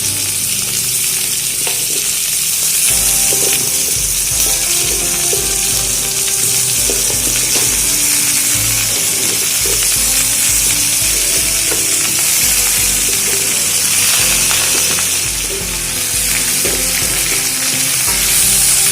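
Pumpkin, malabar spinach, taro and potato frying together in a pan for a prawn and greens dish, a loud continuous sizzle with frequent stirring clatter and scraping throughout.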